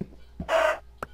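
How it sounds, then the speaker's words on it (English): Minecraft chickens in a cave, heard as a short burst of bird-like clucking with a couple of brief blips around it, close and fairly loud. "There's a ton of chickens in here!"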